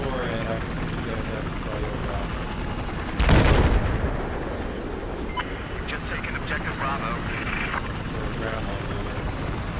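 Steady rotor-like drone of a helicopter in Battlefield 4 fills the clip, with a loud burst of gunfire or an explosion partway through and faint voices in the background.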